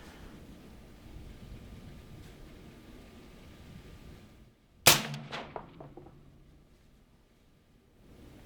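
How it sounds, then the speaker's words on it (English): Suppressed rifle fitted with a Griffin Alpha silencer fires a single shot outdoors, a sharp loud crack midway through quiet ambient wind noise, with a brief ringing decay afterward and no steel hit. "Let's go ahead and see if we're going to go ahead and take a shot and see if it's on steel"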